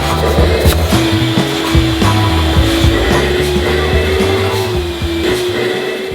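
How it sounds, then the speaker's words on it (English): A vacuum cleaner sucks up debris on a staircase, its loud steady whine running continuously with rattling, bumping knocks from the nozzle against the stairs throughout. "I went ahead and vacuumed up the mess"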